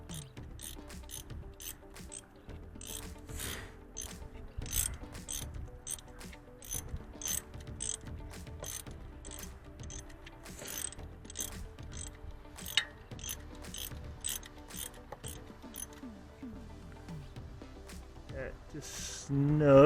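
A ratchet with a 10 mm socket works on a Toyota Camry during an alternator swap, giving a long run of quick close clicking strokes in irregular bursts.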